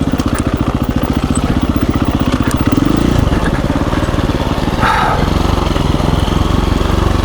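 A KTM 350 EXC-F dual-sport dirt bike runs loud and close, its single-cylinder engine pulsing in a rapid thumping rhythm, rising in revs, then dropping and shifting as the clutch comes out, with rough crackling noise on the trail.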